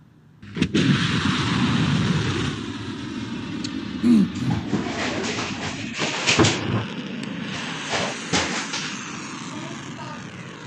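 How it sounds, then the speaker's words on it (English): Kheibar Shekan and Ghadr ballistic missiles launching, a sudden loud roar that sustains as a heavy rumbling rush with sharper cracks partway through, fairly close, no voices. "The IRGC Aerospace Force has just released footage showing the launch of Khyber Shakan and Ghadar ballistic missiles towards targets in Israel."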